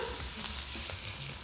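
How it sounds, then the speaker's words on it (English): Food sears in a very hot pan on the stove, a steady broadband sizzle and frying hiss that stays even and continuous throughout, with no talking. "Getting a good sear on that."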